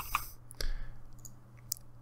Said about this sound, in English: I am hitting the keys hard as heck tonight